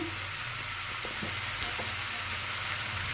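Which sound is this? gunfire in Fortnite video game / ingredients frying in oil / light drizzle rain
ingredients frying in oil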